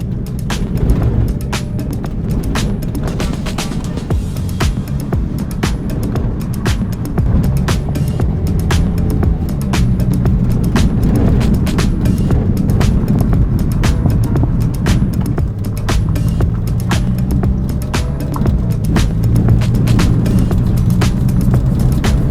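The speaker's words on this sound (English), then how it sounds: "Let's take it down some of these dirt forestry trails." A Scion xB with a swapped engine, running but flawed, drives a bumpy dirt forestry trail, a steady rumbling road noise with constant rattles and knocks from the rough surface, close and continuous.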